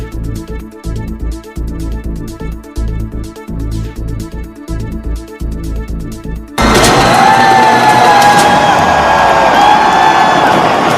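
A New Year celebration crowd at Fun Sport in Port Harcourt: rhythmic pounding music gives way to a loud, dense wash of cheering, whoops and whistles.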